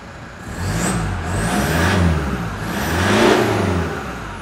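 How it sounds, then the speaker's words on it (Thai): A 1KD common-rail diesel engine fitted in a European luxury car, revved twice in long rising and falling swells, loud and close. "เดี๋ยวพี่ขอลองเบิ้ลอีก1ที"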